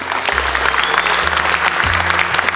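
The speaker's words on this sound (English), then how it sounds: "Let's give him a round of applause." Conference audience applause at a technology entrepreneurs' event, brief and fairly loud, with a low sustained hum or music tone running underneath the clapping.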